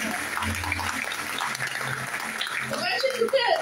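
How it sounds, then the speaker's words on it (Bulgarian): Wedding guests applauding inside a church, a steady wash of clapping with voices and laughter mixed in. "Аплодисменти!"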